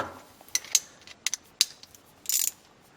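Short metallic clicks and ticks from a socket ratchet working the bolts on a faulty Westinghouse cooktop, a few scattered clicks followed by a brief quick burst of ratcheting near the end.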